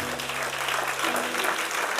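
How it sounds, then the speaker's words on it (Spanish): Church congregation applauding, a steady dense wash of clapping that fills the whole short stretch without pause, with no voices over it. "Dale un aplauso, Señor"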